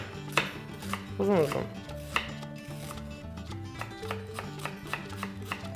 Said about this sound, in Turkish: Önce soğanı ortadan ikiye bölüyorum.